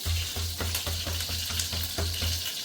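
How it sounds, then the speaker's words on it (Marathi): Cumin and mustard seeds with curry leaves sizzle in hot oil for dal batti, a steady close frying hiss with a regular pulsing rhythm and light spattering crackles throughout, no talking. "कडीपत्ता टाकल्यानंतर जिरं मोहरी टाकते मी"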